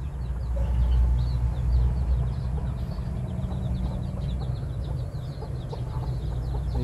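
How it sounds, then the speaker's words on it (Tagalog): A hen with seven newly hatched chicks clucks softly and steadily nearby while the chicks peep faintly in the background, with no talking. "May 7 siyang sisiw."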